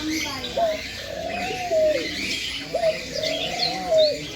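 Several low, soft dove coos repeat in gentle phrases, close by, at a mini zoo in Baruipur, with other birds chirping faintly in the background.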